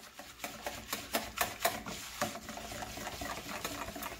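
A flour and limestone mixture being stirred in a bowl for a microwaved dish, with quiet rhythmic scraping and tapping strokes, faint and close.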